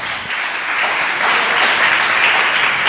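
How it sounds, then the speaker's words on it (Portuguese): Dense, loud applause from a church congregation during a Portuguese-language worship sermon, a steady roar of many hands clapping together for the whole stretch with no voice over it. "Dê uma salva de palmas para o nosso Senhor, porque Ele é demais."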